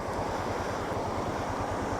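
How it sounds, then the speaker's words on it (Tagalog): A strong river current in Ilocos Norte, Philippines, rushes and churns loudly and steadily, a dense roar mixed with gusty wind buffeting the microphone. "Lakas ng tubig"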